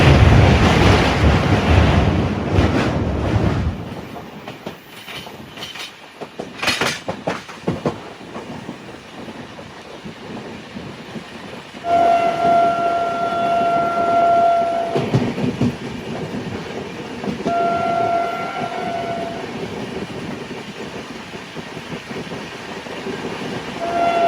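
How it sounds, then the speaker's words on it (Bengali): A train pulls out of Bandel Junction with a steady rolling rumble and heavy wind buffeting. Two sustained horn-like tones ring out partway through, and no one speaks. "আর ট্রেন হর্নও দিয়ে দিয়েছে, এক্ষুনি ছাড়বে ব্যান্ডেল থেকে"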